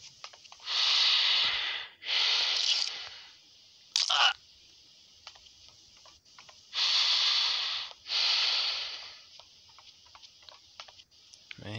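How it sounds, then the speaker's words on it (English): A character in the video game GTA San Andreas breathes with heavy, raspy wheezes, about four long drawn breaths in pairs with a short click between them, loud and close, with no talking. "Doing that Jason breathing, boy"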